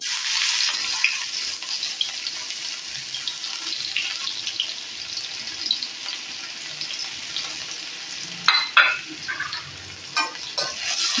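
Chopped onion hits hot oil with whole cumin seeds and a dried red chilli and sizzles in a continuous hiss, with a few clattering stirs toward the end.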